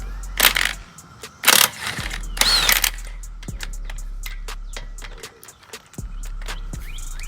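A Snap-on power tool loosens the lug nuts on a car wheel in several loud, short bursts, followed by clicks, knocks and clanks of metal handling in between with a low steady hum underneath.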